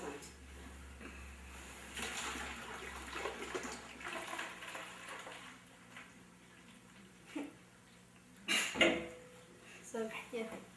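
Water bubbles and swirls in a storm-in-a-container science demonstration, faint sloshing and gurgling in irregular bursts with a few louder splashes and light clinks near the end.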